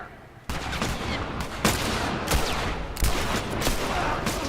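Gunfire in the video game The Last of Us, a sudden onset of loud, dense shooting with several sharp cracks standing out over a constant roar of combat.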